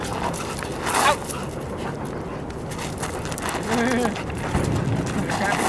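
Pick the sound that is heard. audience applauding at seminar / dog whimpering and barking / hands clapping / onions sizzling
dog whimpering and barking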